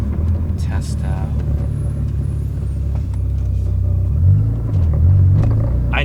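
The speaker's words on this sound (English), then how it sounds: "when I press the clutch in, you hear a clutch chatter" Low, rumbling engine and drivetrain noise from a right-hand-drive Mazda RX7 with a plated clutch while driving, a steady near drone with some uneven low-frequency shudder toward the end, with talk over it.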